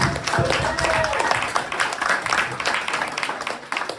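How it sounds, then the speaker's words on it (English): A conference audience applauds a business partner and mentor being welcomed on stage, a steady dense wash of clapping with some talk and cheering mixed in, sustained for the whole stretch before tapering slightly. "I want you to give a huge round of applause for my business partner, my mentor, Corbin Roush"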